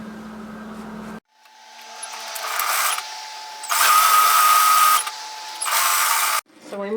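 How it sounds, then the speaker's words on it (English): Sewing machine stitching an apron seam in short runs, whirring bursts separated by brief pauses, close and clear, with a voice speaking before the stitching begins. "we're going to stitch 1 centimetre seam allowances across here and then down"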